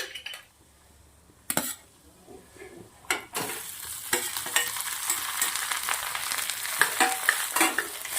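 Boiled potatoes drop into a pan of hot ghee with a loud sizzle, then steady frying and stirring with a spoon clinking against the pan.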